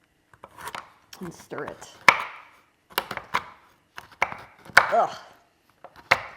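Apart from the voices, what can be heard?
chopping chocolate finely with a knife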